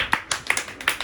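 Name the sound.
children clapping to congratulate the game winner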